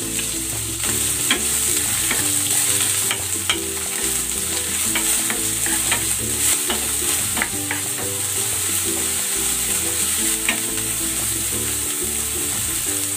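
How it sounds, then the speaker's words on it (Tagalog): Onion sautéing in cooking oil for a chicken and rice dish: a steady, close sizzle runs throughout, broken by repeated scraping and clacking of a utensil stirring the pan, with no talk. "Igisa ko na tong sibuyas."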